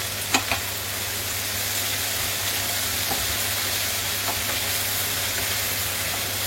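Courgettes frying in a pan give a steady, close sizzle and hiss, with a few light clinks from a utensil stirring them early on.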